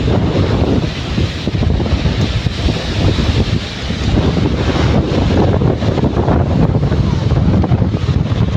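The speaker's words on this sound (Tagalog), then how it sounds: "Lakas ng hangin." Strong typhoon wind at the seaside buffets the microphone in a continuous low roar, with gusty rumble and no clear voices.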